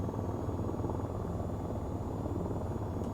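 Helicopter rotor in the flight game VTOL VR, a steady loud thumping drone with turbine whine, heard alone and unbroken throughout.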